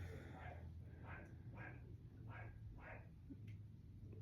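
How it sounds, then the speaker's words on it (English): A neighbor's dog barks faintly in the distance, about five single barks spaced roughly half a second apart over a steady low background hum. "I'm so sorry if you hear a dog barking."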